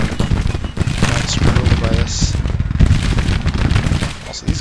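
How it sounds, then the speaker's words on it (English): Dense volleys of musket fire crackle nonstop in a Grand Tactician: The Civil War battle, many overlapping loud shots forming a continuous rattling fusillade. "guys are actually shooting"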